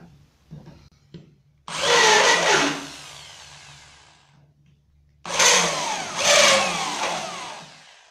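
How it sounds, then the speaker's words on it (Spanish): Drill countersinking a hole in soft aluminum for a screw head on a small desk divider, two long grinding, rasping bursts separated by a quiet gap, near and fairly loud, with no speech. "Antes de avellanar, debes recordar que el aluminio es sumamente suave, por lo que debes ejercer muy poca presión cuando esté haciendo la copa avellanada."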